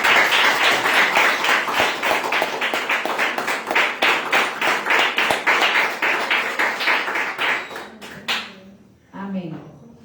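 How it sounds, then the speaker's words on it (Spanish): A church congregation claps together in a steady burst of applause lasting several seconds, dense and close, then tapering off and stopping before a voice speaks. "Ahora denle un aplauso."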